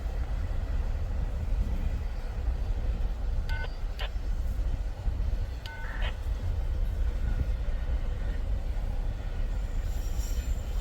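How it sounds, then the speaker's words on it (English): Intermodal freight train rolling past in Berea, Ohio: continuous heavy rumble and clatter of wagons, with a few sharp metallic wheel squeals and faint talk in the background. "this looks like your typical junky looking intermodal"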